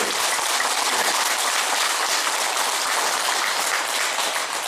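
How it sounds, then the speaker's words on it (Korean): A temple congregation applauds during a Buddhist dharma lecture, thick continuous clapping from many hands, loud and steady throughout, with no pauses. "제대로 한번 박수로 보내드립니다."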